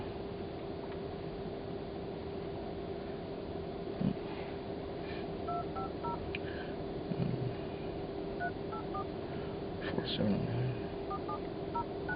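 Phone keypad tones beep in short clustered runs inside a taxi, fairly clear over a steady low hum and engine noise, with occasional soft knocks between them.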